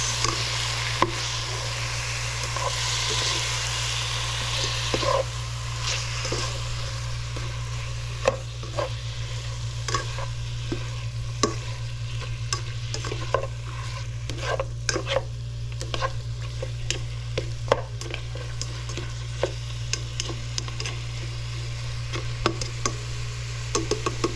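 Food stirred in a frying pan after fish sauce is added, in a provincial Philippine kitchen: steady low sizzle with scattered scraping and ticking clicks of a utensil against the pan, under a constant low hum.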